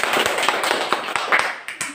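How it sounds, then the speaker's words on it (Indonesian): A classroom of students claps for a group that has just finished presenting, a short burst of uneven, scattered hand claps that thins out within two seconds. "Tepuk tangan dulu untuk kelompok 2"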